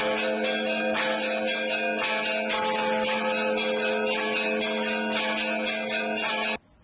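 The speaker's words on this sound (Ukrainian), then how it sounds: "Давайте послухаємо, як звучать великодні дзвони." Easter church bells peal continuously in a bright, layered ringing, strikes repeating in a steady rhythm before cutting off abruptly.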